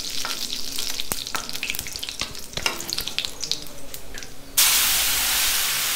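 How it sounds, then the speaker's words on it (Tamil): Curry leaves frying in hot oil with mustard seeds for a Chettinad-style chutney: close, steady crackling sizzle with sharp pops, then a sudden louder, dense hiss near the end as fresh leaves hit the oil. "பொரிஞ்சதுக்கப்புறம் ஒரு கைப்பிடி அளவுக்கு கருவேப்பிலை போட்டு"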